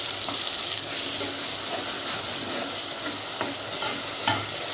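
Onion paste sizzling steadily in a pan for fish curry, a loud continuous hiss with soft scrapes of stirring scattered throughout.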